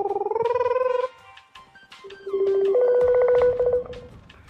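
A phone being dialed to call a friend, a few steady dial tones followed by short electronic beeps and a brighter sustained tone, close and clear with no voices.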